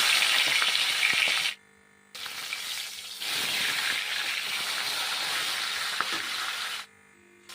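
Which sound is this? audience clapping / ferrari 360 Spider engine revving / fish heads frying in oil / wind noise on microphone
fish heads frying in oil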